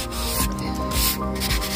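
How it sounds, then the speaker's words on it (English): Fine sandpaper of about 200 grit rubs back and forth across the wood of an antique daybed, a close, steady scratchy hiss in repeated strokes with no talking. "Smooth sandpaper is the best for this."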